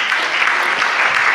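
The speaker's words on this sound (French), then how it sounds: "Qui arrive de là-haut, on peut l'applaudir." A conference audience applauds at an allies' assembly on governance. The applause is a dense, steady wash of many hands clapping together, loud and sustained, with no voices standing out.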